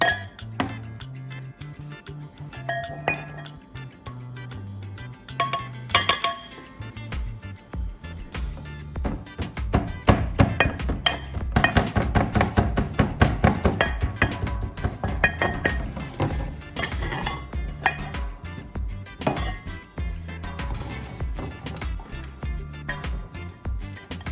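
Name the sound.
grinding dried toilet paper in a mortar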